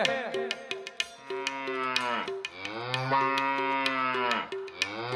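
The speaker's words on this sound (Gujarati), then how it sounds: "કમા કોઠારિયાની ગાયું છે" Several cows moo loudly and close by in Jhinjhuwada, Gujarat, long drawn-out lowing calls overlapping one another, with a few sharp clanks between them.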